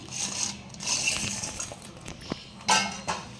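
Pieces of fish go into a pan of fish pickle (chepa pachadi) seasoned with chilli powder and get stirred, making irregular metallic clinks and scrapes of a spoon against the pan, with a couple of sharper knocks near the end.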